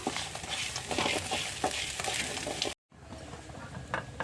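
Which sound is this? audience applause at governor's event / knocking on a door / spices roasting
spices roasting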